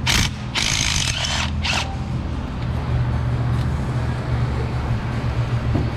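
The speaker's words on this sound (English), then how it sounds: "I am using an impact" An impact wrench rattles against a spark plug in a Ford 5.4 cylinder head, giving a few sharp hammering bursts at the start and then a continuous loud mechanical rumble.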